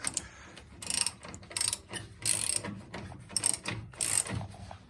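Lug nuts on a 1980s Toyota Hilux pickup wheel tightened by hand with a ratchet wrench, giving repeated bursts of quick metallic clicking, roughly one burst per second, close and moderately loud with no talk.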